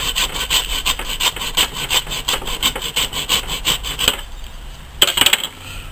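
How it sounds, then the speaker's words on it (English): A hand saw rasps through a deer backbone in a series of rhythmic, close back-and-forth strokes, then stops and gives one last sharp stroke. "all you need to do then is cut that back bone off"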